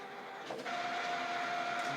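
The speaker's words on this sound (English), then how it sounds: "That printer is loud, man." A printer running loudly at close range, starting with a brief shift then settling into a steady whirring drone with a sustained mechanical whine.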